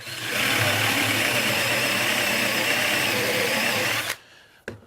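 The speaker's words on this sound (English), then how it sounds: "the Forstner bit is just like we said. It's going to drill a nice flat bottom hole." A power drill spinning a Forstner bit into wood in a woodshop gives a steady, loud whirring grind for about four seconds, then cuts off abruptly, followed by a brief click.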